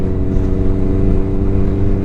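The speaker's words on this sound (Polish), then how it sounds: "na szczęście masz głośny wydech" A motorcycle's loud exhaust drones steadily while riding slowly along a road in the Bieszczady mountains, a dense low rumble that holds constant with no pauses.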